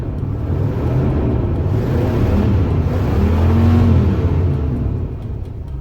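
A Chevrolet 454 big-block V8 fitted with new spark plugs and wires idles steadily with a deep, continuous rumble close by, swelling slightly midway, with no talking.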